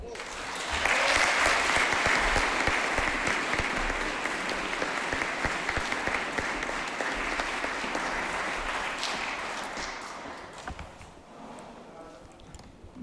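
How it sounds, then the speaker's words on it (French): Sustained applause from a large audience at a civic ceremony honouring a woman mayor, a dense broadband wash of clapping that swells quickly, holds steady and slowly tapers off near the end. "On peut en plus l'applaudir et la complimenter"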